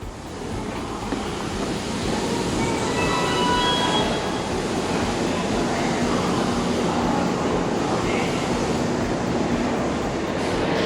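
Steady rumbling roar of a Japanese train running on the tracks, with faint high squeals rising now and then, continuous and fairly loud.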